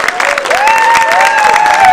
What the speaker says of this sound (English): Can we give her a big round of applause for all of her hard work?